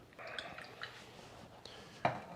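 Pineapple juice poured into a glass of ice for a mocktail: a soft, faint trickle with a light drip, then one sharp clink of ice against glass near the end.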